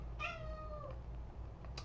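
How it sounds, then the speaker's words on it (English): A pet cat named Kitty gives a single clear, drawn-out meow close by, followed by a faint short chirp, over a low steady room hum. "that's my cat, Kitty."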